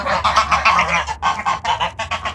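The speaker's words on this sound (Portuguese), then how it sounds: "Olha o tamanho desse ganso. Esse ganso é lindo." A large goose on a small rural farm honks loudly and repeatedly, a close, continuous run of harsh nasal calls with only brief breaks between them.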